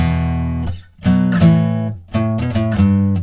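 Electric guitar power chords from the chorus of a song, a few chunky chords struck and sustained, then quicker repeated hits, loud and close with no voices.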